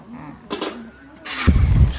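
A motor-driven mixing machine churning damp oyster mushroom growing substrate revs hard, its engine swelling into a loud, steady rumble and roar after a quieter start, with faint voices in the background.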